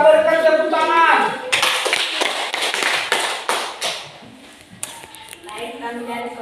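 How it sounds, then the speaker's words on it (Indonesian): Classroom students clap together for a presenting group during a lesson, a dense burst of hand claps rising after a spoken line, fairly close, fading out as a voice resumes. "Kita berikan tepuk tangan."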